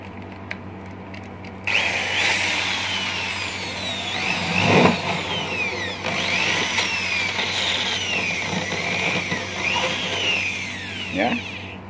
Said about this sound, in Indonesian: Inputnya dari sini ya, inputnya dari sini kita bor dulu.